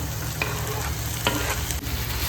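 Onion and tomato fry in a pan with a constant crackling sizzle, with a few sharp clicks of the spoon stirring against the pan close by and no voices.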